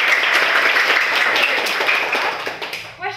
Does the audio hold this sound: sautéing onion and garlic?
no